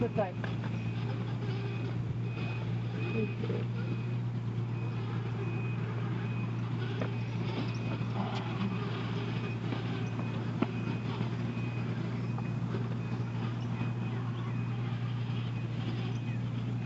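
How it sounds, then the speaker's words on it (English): Construction vehicles work in the background near a historic battlefield site, their reversing beeps repeating steadily under a constant engine drone while people talk and walk nearby. "if you can hear the construction in the background"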